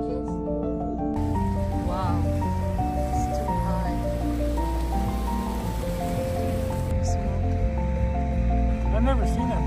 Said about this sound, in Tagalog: it's been raining non-stop